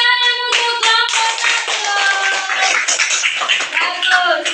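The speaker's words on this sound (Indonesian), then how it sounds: "Tepuk tangan untuk kelompok" Elementary school pupils in a classroom give applause for a group of students, a burst of close, dense hand clapping that continues steadily, with children's voices and shouts mixed in.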